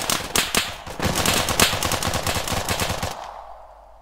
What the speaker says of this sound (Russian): Я отсюда стреляю.